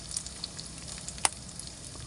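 Chili peppers hissing in hot oil in a pan while snail adobo is being cooked, giving a steady close sizzle with scattered pops and one sharp clack of a utensil partway through, no voices.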